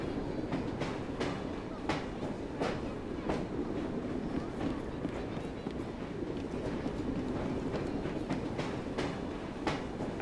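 A train in the Assassin's Creed Syndicate game rolls along with a steady rumbling roar and regular clickety-clack beats from the rails, continuous and fairly loud throughout.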